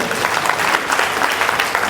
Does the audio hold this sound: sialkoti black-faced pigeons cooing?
no